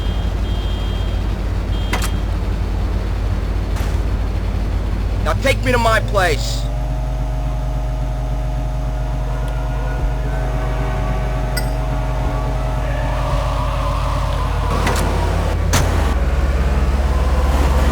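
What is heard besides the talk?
getting into car and driving, video game GTA Liberty City Stories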